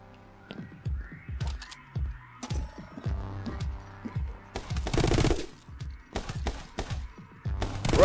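Rapid bursts of gunfire from the video game My Friend Pedro, loud and close, sharp shots in clusters and short volleys with brief pauses between, including one dense sustained burst.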